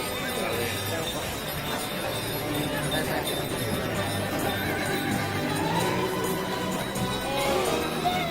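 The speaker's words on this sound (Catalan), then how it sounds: "A veure què mos farà fer aquest cavall." At a Tres Tombs parade and blessing of animals, a horse neighs over clopping hooves and faint clinking, amid a busy outdoor crowd with someone talking over a loudspeaker.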